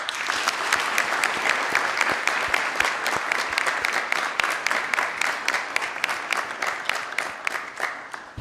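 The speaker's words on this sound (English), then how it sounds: "Help me give them a round of applause." Sustained applause from an audience at a medical students expo, a dense steady clatter of many hands clapping with a few sharper claps standing out, filling the full eight seconds at an even level before easing slightly at the end.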